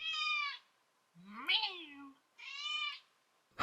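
A cat meows twice, close and clear, with a lower human voice between the meows and a short sharp noise at the end.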